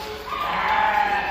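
A pregnant goat on a goat farm gives a single drawn-out bleat lasting about a second, close and fairly loud against faint background noise.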